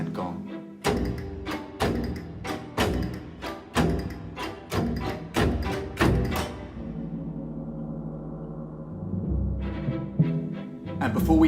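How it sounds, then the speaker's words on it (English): Castanets give sharp clacking percussive hits in a rhythmic series, then a gong sounds a deep tone that sustains and hums before a final rattle. "The castanets and gong."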